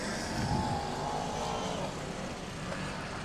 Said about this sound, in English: The leading cars now round turns 1 and 2.